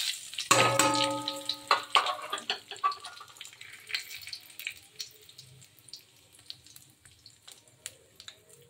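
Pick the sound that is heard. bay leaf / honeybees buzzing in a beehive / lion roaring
bay leaf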